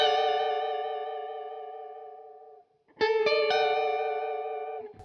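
A guitar runs through a FLAMMA Mod chorus modulation pedal: a ringing chord sustains and fades with a swirling shimmer, then after a short gap a fresh strum rings out with the same wavering, doubled tone.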